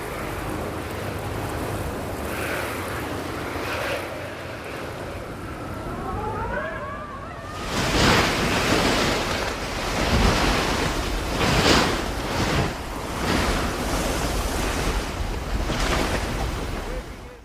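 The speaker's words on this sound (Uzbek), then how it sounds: "Black stansiyasi sayyoramizdagi eng kuchli shamol esadigan joylardan biri." Strong Antarctic wind roars in loud, buffeting gusts at a research station, the blasts intensifying midway and battering the microphone with rough, broadband rushes.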